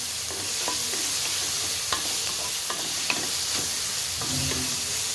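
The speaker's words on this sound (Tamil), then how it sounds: "பச்சை வாசனை போகிற வரைக்கும் வதக்குங்க." Ingredients for pulao are sautéed in a pan, giving a constant loud sizzle of hot oil broken by occasional scrapes and taps of a spatula as it stirs, with no talking.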